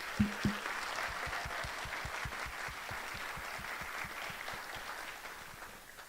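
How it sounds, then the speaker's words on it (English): An audience applauds club seniors at the close of a university club show, with steady, moderately distant clapping running throughout and slowly fading toward the end. "Round of applause."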